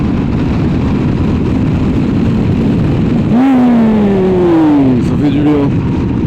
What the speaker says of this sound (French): Une petite accélération.